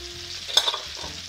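A ham steak sizzles in a frying pan for a bourbon butter sauce dish, a steady close crackling hiss with a brief louder burst of spitting midway and no talking.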